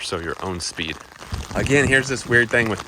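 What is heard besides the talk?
No everyday noises stand out.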